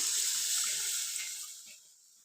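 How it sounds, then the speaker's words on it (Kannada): Water pours steadily into a pan of aloo kurma with a bright hissing splash, fairly close, gradually tapering off toward the end. "ಈ ನೀರನ್ನು ಇದಕ್ಕೆ ನಾನು ಹಾಕ್ತಾ ಇದ್ದೀನಿ"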